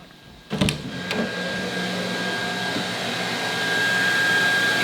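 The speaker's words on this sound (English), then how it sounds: "Hair dryer, that's the background." A hair dryer whirs steadily in the background, a constant airy mechanical drone that starts after a brief quiet moment and a couple of sharp clicks, then holds and slowly swells slightly louder.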